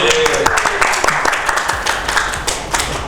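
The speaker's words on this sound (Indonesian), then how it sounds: "Tepuk tangan." Audience applause at a youth music clip show from West Kalimantan, a dense, steady wash of many hands clapping throughout, with faint voices mixed in.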